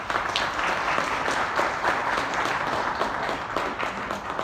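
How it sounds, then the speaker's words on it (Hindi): An audience at a company meeting gives steady, dense applause for attendees who travelled far, continuous clapping from many hands throughout. "आप सभी लोगों के लिए तालियां हो जाएंगी।"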